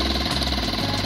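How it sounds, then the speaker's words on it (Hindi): A motorcycle engine idles steadily after a cold morning start on a ride from Nubra Valley toward Pangong Lake, a loud, close, even mechanical churn with no voices. "सुबह सुबह कोल्ड स्टार्ट करने का टाइम आ गया बाइक का"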